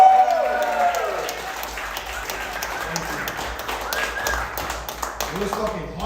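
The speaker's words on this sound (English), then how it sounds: "can I get a round of applause" Scattered light clapping and some cheering break out among a small podcast group, a thin, uneven round of applause mixed with voices talking and laughing over it.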